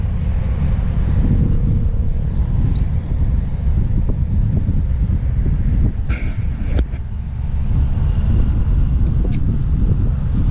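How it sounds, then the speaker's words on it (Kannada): Strong wind buffets the microphone outdoors at a fishing spot under cloudy skies, a loud, steady low roar with a few faint clicks and thumps, with no talking. "ತುಂಬ ಗಾಳಿ ಇದೆ."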